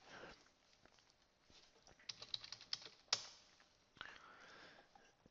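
Fingers type a short search phrase on a computer keyboard, a quiet, close run of irregular key clicks with a few sharper taps and a faint sniff, no talk.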